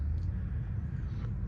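Steady low rumble of road noise inside a quiet-running Tesla, a constant dull drone with no other sounds.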